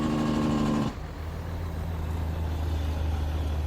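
A heavy truck engine in Farming Simulator rumbles low and steady, with a tonal whine that cuts off early, leaving a deep idling drone.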